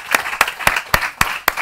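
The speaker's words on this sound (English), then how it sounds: "Give a big round of applause." Applause at a creative tastebuds workshop session comes through as six sharp, evenly spaced hand claps, close and fairly loud, with no talking over them.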